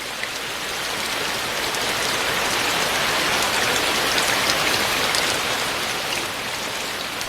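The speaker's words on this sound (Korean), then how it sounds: "고즈넉한 천연 고찰에 담장을 적시는 빗소리가" Steady rain falling on the walls of an ancient Buddhist temple, Magoksa in Gongju, a dense, even hiss of drops throughout with no voices.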